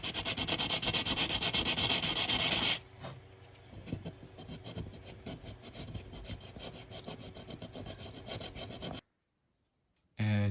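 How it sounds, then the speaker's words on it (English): Steady abrasive rubbing, close and fairly loud, a fine scratchy sanding stick stroke against metal O gauge track pins that softens, continues, then stops abruptly near the end. "To get it smooth to the rails, I like to use one of these sanding sticks"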